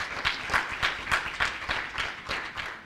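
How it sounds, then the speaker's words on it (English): A symposium audience applauds in rhythmic, evenly spaced claps lasting a few seconds, moderately loud with no voices over it. "A round of applause for Ronald."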